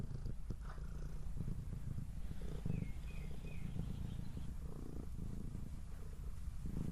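A house cat purrs steadily and close up as a continuous low rumble, with no talking.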